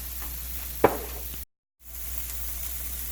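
Onions sauté in a pan for mujadara, a steady soft sizzle close by with one brief sharp clink, broken by a short silent gap before the sizzle resumes.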